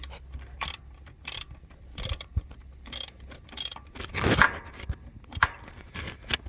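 A ratchet fitted with an extension and socket clicks in short, irregular bursts while working on the starter of a Ford E350 with a 6.8L V10, with metallic scrapes and one louder rattle midway.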